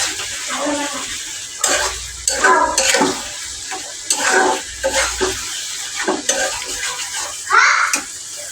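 Tomatoes sautéing in a pan for dal, with steady sizzling and frying broken up by repeated scraping and stirring clatter from a spatula against the pot, close and fairly loud.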